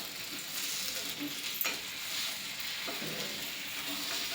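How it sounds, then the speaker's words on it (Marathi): Food fries in a pan with a steady close sizzle, and a fork and spoon scrape briefly as the pieces are flipped, quiet and without speech. "हे काट्याने चमच्याने असं थोडं हे करून पलटे करायचं"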